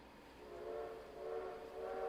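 The Virginia & Truckee steam train idles at Gold Hill Depot with a soft, steady hiss and low drone, its tonal hum swelling gently, faint and distant, with no voices.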